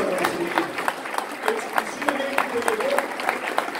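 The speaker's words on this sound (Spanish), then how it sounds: "Con el aplauso de ustedes, lo vamos a recibir" An audience at a live Latin American music show applauds a guest as he comes on stage. Crisp, scattered claps continue while the host keeps speaking over them.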